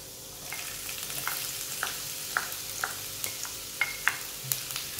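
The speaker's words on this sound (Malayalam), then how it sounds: "അതിലോട്ട് നമുക്ക് നമ്മൾ അരിഞ്ഞു വെച്ചിരിക്കുന്ന വെളുത്തുള്ളി ഇടാം" Chopped garlic and ginger fry in hot oil for a chicken cutlet, with a soft continuous sizzle punctuated by light, regular spatula ticks close by.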